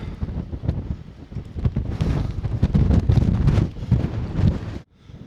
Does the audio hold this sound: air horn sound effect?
no